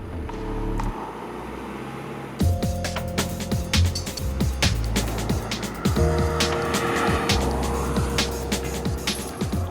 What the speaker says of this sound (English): this diesel engine definitely feels more refined and quieter than before